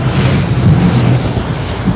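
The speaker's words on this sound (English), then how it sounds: "It's very gusty here as we get behind Table Mountain." Strong gusty wind buffets the microphone over choppy water behind Table Mountain in Cape Town during an offshore sailing race, a loud continuous rumble and rush with splashing waves and no voices.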